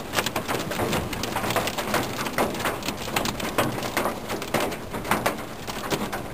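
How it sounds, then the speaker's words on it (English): Hail pounds the roof of a van during a high-precipitation supercell storm, a dense, loud, continuous rattle of impacts with sharper bursts throughout, heard from inside the vehicle. "I've never been in a hailstorm like this."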